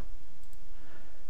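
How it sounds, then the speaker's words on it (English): A computer mouse clicking during a game of Runescape: a couple of quick, light clicks near the middle, faint over a steady background hiss, with no talking. "I just realised I've been clicking a lot, so it's probably really loud."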